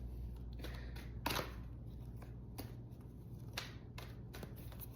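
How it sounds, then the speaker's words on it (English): Tarot cards being shuffled by hand, with a run of soft, brisk riffling bursts and a few sharper snaps, quiet and close over a low steady hum, no voices. "One more shuffle."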